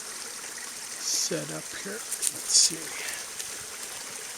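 A mountain spring stream at Upper Ironside Springs flows as a steady, faint rushing wash throughout, with someone talking briefly over it.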